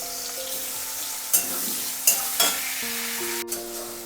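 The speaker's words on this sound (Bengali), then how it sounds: "কড়াই তেল দিয়ে চিংড়িগুলো ভেজে তুলে নেব।" Prawns rubbed with salt and turmeric fry in hot oil in a wok, giving a steady close sizzle broken by a few sharp stirring scrapes and clinks.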